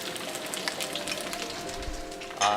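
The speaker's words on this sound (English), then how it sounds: "So then I'm adding, this is my aromatics, so that's garlic, then my ginger," Garlic and ginger fry in a hot oiled non-stick wok, giving a dense, close sizzle with light crackles and a brief stirring knock at the end.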